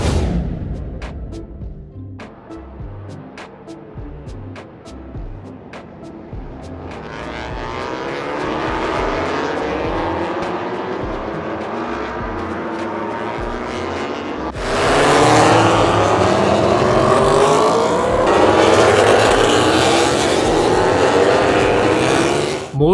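Racing motorcycle engines roar past in a steady, loud stream, rising into a harsher, fuller blare in the second half with no talk over it.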